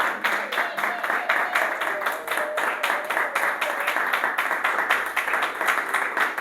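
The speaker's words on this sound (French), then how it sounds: "Quelqu'un acclame encore Jésus." A church congregation claps steadily in a rhythmic, continuous beat to acclaim Jesus, with voices blended into the applause throughout.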